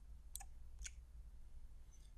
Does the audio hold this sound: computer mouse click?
yes